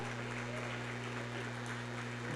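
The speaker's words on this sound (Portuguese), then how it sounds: "Você pode aplaudir ao Senhor por isso?" Congregation applauding the Lord during a Thursday church service, a steady blanket of clapping over a constant low electrical hum, even and moderately distant throughout.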